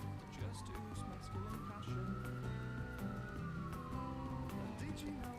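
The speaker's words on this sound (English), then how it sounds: "There's an ambulance currently outside the second dormitory." An ambulance siren passes outside a second dormitory, its wailing tone rising and falling steadily over a low rumble of traffic, mid-distance and moderately loud, with a person talking over it.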